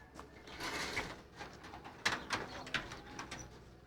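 Pigeons in an individual racing loft coo softly, low throaty calls alongside scattered wing flutters and small knocks, fairly close with no talking.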